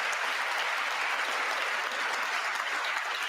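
An audience applauds during a State of the Union address, a loud sustained wash of many hands clapping together without pause, no talk over it.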